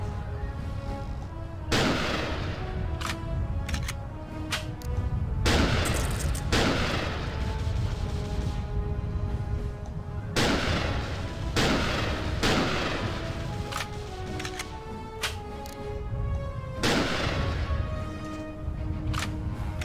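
Sniper shots ring out in the video game TimeSplitters Future Perfect, several loud, sharp gunfire cracks spaced a few seconds apart over a steady background of game music and ambience.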